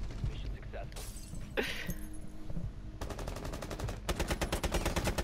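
Gunfire in the Rainbow Six Siege video game: scattered shots and mechanical clatter give way to sustained rapid automatic bursts in the second half, loud and close, with background voices.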